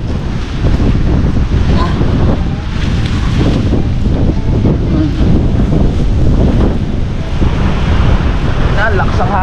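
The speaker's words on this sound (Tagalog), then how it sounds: "Ayan, lakas ang hangin." Strong typhoon wind roars and buffets the microphone steadily and loudly, a constant rushing gale with no break.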